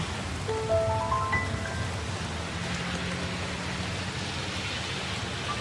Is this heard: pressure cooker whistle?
no